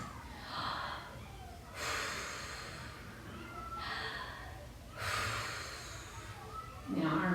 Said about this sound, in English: And take deep breaths.